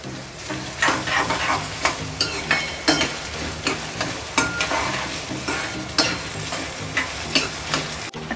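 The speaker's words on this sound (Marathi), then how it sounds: "कांदा चांगला जरा भाजू दे" Onion and curry leaves frying in an Indian tempering for prawn masala, with a loud steady sizzle and a regular rhythm of scraping stirring strokes against the pan, close up and with no talking.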